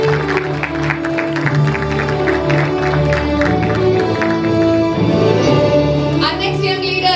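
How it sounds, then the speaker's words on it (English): Audience applause fills a school investiture ceremony for the student cabinet, a steady dense wash of clapping from a large crowd lasting throughout, with some voices mixed in. "A big round of applause for Tarun Pal."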